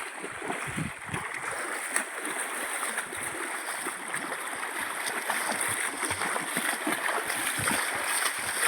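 River water rushing steadily and loudly during a crossing of a wide river swollen by heavy rain, a continuous broadband wash with splashing surges, close and constant throughout.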